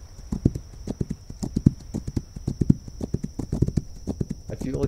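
Horse hooves in the western video game This Land is My Land clip-clop loudly in a steady, irregular walking rhythm, up close, with a constant high electronic tone running underneath.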